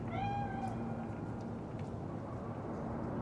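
A cat meows in the video game Cyberpunk 2077, a couple of drawn-out rising and falling cries near the start over a steady low hum of city ambience, with no talking.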